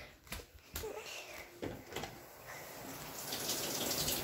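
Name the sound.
shower water running in a video game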